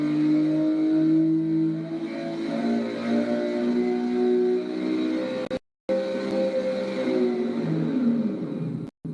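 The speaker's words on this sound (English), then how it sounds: "Right now we're loading the engine at full throttle, and then the dyno lets the engine accelerate." A Gunther Werks 400R engine pulls at full throttle on a dyno, rising steadily in pitch from about 3,800 to 7,800 rpm in one continuous loud roar, with a brief cut near the end.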